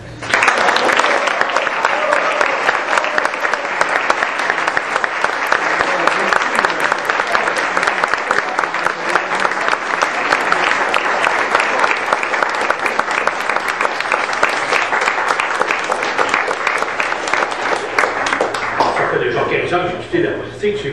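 A large audience breaks into sustained, dense applause for about twenty seconds after a talk, with steady clapping throughout that thins slightly at the end.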